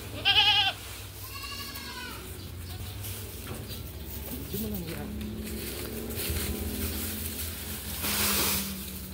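Goats on a small farm, a couple of loud close bleats at the start and another cry midway, while a person talks steadily through the rest of the stretch.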